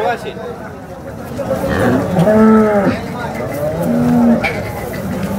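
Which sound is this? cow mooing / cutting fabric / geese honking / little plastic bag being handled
cow mooing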